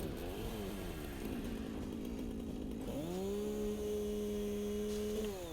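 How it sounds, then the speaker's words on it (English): A chainsaw runs steadily in the Satisfactory game, a loud continuous buzzing engine drone that shifts pitch partway through as it revs and cuts, with no talking. "Alright, let's go chainsaw some stuff."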